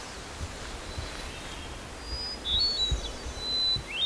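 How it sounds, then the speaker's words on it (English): Thrush calls in the Alaskan outdoors: several thin, high whistled phrases ring out in the second half, fairly faint and distant over a soft low rumble of wind and ambient noise, with no talking. "Those are thrushes."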